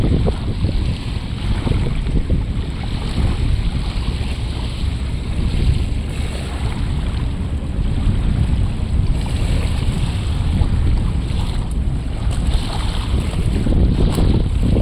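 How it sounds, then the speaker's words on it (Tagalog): Strong wind gusts buffet the microphone at Dolomite Beach, with a continuous low rumble and the wash of surf. The noise holds steady for about fifteen seconds and no one speaks. "Medyo mahangin."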